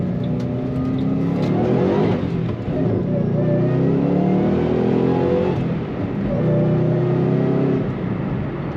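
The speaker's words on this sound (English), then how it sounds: "There's a nice little whine to this engine." A loud supercharged 2005 Ford Mustang Saleen S281 engine revs up repeatedly through the gears, its pitch climbing with a whining tone, close and continuous.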